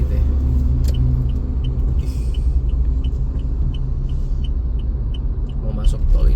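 A car moving slowly in heavy, congested traffic while heading onto the Kunciran toll road in Indonesia, giving a steady low engine and road rumble throughout with faint clicking ticks.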